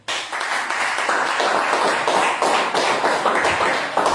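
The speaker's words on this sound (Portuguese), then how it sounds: "As palmas louvam o Eterno." A crowd at a religious gathering claps rhythmically in unison, a near, sustained run of sharp hand claps with a regular beat and no speech.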